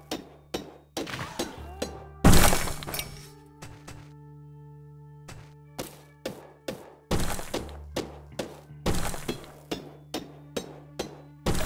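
Game sounds from SteamWorld Dig with an explosion: a loud burst and later blasts among a steady series of thudding, hammer-like strikes, over a low droning tone.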